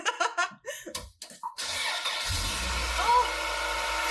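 Acura Integra GS-R with a B-series engine, new manifold and exhaust, cranking and catching into a loud steady idle with a brief blip; people talk and laugh just before it fires.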